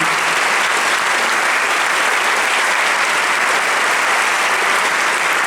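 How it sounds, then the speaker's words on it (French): At the Vendée Globe 2016-2017 prize ceremony, the crowd claps steadily and loudly throughout, an even, close wall of applause with no voices over it. "Sous les applaudissements du public."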